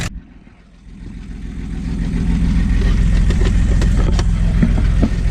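A slow diesel car engine runs close by, a steady low rumble that swells after a brief dip and holds loud and even, with a slightly gas-like tone.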